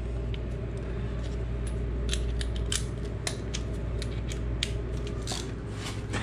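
A wrench with an extension works loose the 17 mm oil drain bolt on a Kawasaki Ninja 300, giving scattered, close metallic clicks over a steady low hum.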